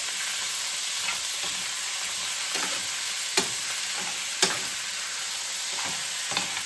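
Beef for beef and broccoli fries in a pan with a steady close sizzle, punctuated every second or so by the soft scrape and clack of a utensil stirring and separating the meat.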